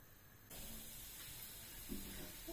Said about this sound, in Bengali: রসুন কুচিগুলো একটু ভেজে নিব।